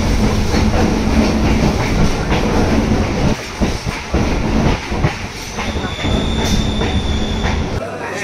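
Train pulling into Lakshmikantapur station on the Sealdah–Namkhana line, a loud steady rumble of wagons with clickety-clack wheel beats and a brief high wheel squeal near the end; a few louder thumps punctuate the continuous roar.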